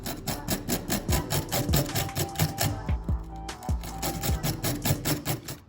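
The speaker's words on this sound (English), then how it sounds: "We're gonna clean these with just a wire brush like this." A wire brush scrubbing corroded bolts during a Corvette C3 water pump and thermostat housing job, a fast rhythmic back-and-forth scratching with regular strokes, close and loud, with one short pause midway.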